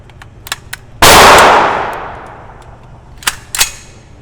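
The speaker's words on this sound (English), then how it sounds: "put our magazine on firearm, and now we're gonna shoot safely." A single loud firearm gunshot at a shooting range, a sharp close crack with a long decaying echo, framed by a few small metallic clicks and taps.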